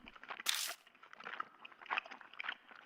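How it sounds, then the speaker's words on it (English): Faint, wet crunching and smacking of gum being chewed over a telephone line in the horror game Death Mark, with irregular soft bites and one sharper crackle near the start, heard alone. "I hear a noise like someone chewing gum from the other end of the phone."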